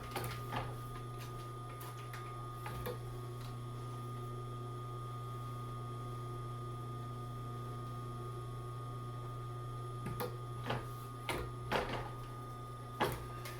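An upholstery sewing machine stitching welting cord for the seats of a 1959 Ford, a faint steady motor hum broken by several short bursts of stitching clatter, mostly near the end.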